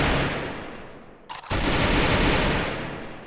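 Loud sustained automatic gunfire in a shooting video game with a sniper, a dense continuous burst that breaks off briefly mid-way and then resumes just as heavily.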